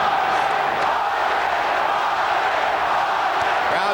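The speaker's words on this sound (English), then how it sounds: "Crowd chanting for Vargas" A dense boxing arena crowd at the 2002 Oscar De La Hoya versus Fernando Vargas fight keeps up a loud, steady chant and roar in support of Vargas, with no single voice standing out.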